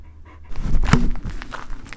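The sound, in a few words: dogs panting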